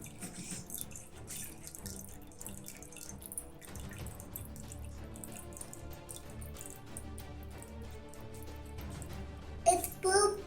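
Water runs out of a glass in a children's water science experiment, making a steady, soft trickle under faint background noise, with a brief louder splash near the end and a voice in the background.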